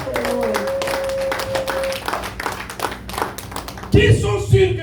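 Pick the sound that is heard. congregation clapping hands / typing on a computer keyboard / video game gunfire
congregation clapping hands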